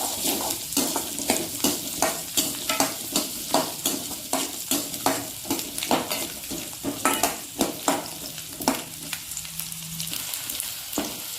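Garlic frying in oil in a pan for garlic chutney, a constant close sizzle broken by repeated rhythmic scrapes and knocks of a spoon stirring, no speech.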